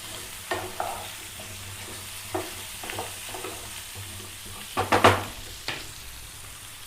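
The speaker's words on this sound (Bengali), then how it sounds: "ভালো করে নেড়ে একটু হালকা করে ঢাকা দিয়ে দেবো, যাতে পটলগুলো সুন্দরভাবে ভাজা হয়ে যায়" Pointed gourd frying and being stirred in a pan for a potato-and-gourd dish, with a steady low sizzle and a handful of sharp scraping stirs, loudest near the end, and no talking.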